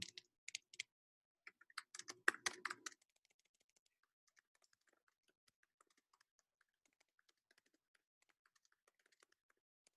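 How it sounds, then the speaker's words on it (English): Quick bursts of keyboard typing up close, clustered clicks and key taps at first, then sparse faint ticks trailing off. "I'm really bad at typing"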